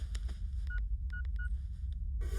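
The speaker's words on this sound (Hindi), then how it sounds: "अभी फोन लगाता हूँ।" A telephone number is keyed in on a phone keypad, giving a quick series of separate DTMF tone beeps with short gaps, close and clear over low background hum, with no talking.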